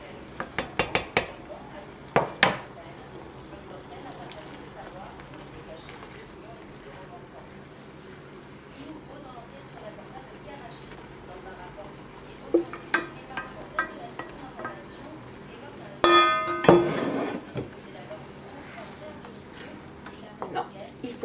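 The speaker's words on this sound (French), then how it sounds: "il faut bien mélanger pour les enrober avec la sauce." Noodles are mixed into thick jjajang sauce in a pan with metal utensils, making a low sizzle under scattered clinks and scrapes, with a busier clatter of stirring near the end.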